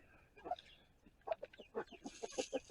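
Several chickens cluck in short, irregular bursts close by outdoors, a hen among them, with soft talking between the calls.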